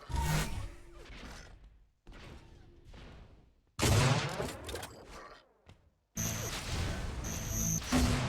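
Gunfire and impact bursts from an Unreal Tournament competitive league match, several loud sharp shots arriving in separated clusters with abrupt starts and brief gaps, ending in a dense sustained burst.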